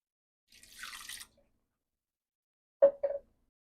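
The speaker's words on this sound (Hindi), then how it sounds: "और इसमें हम बिल्कुल थोड़ा सा पानी मिलाएंगे" A small amount of water is poured into tamarind pulp for a potato chutney, giving a brief soft trickle followed by a couple of distinct close drips or splashes, with no talking.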